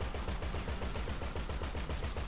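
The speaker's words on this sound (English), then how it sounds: "stop shooting for a second" Rapid automatic gunfire in GTA V, a dense, loud string of shots with a steady rhythm that runs the whole time and is not covered by talk.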